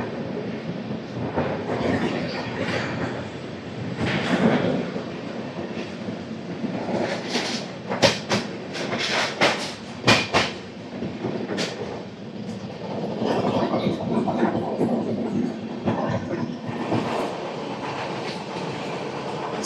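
Narayanadri Super Fast Express (12734, Lingampalli–Tirupati) running at speed, heard from on board as a continuous loud rumble with clickety-clack wheel beats and a few sharp rattling bursts midway.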